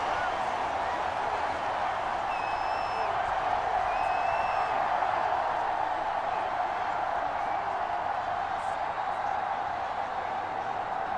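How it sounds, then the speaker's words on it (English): Stadium crowd roar in an NCAA Football 23 college game, Clemson against Ohio State, a steady dense wall of cheering sustained throughout with faint whistles and shouts, commentary voice speaking over it. "Crowd getting into it."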